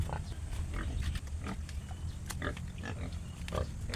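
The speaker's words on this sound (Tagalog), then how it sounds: "Katapos lang natin ngayon magpakain ng ating mga alagang baboy." Pigs grunting and snuffling close by just after feeding, a series of short irregular grunts over a low background hum.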